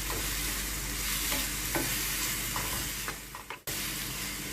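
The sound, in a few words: stirring cassava peel with crushed coconut, onion and chilli in pan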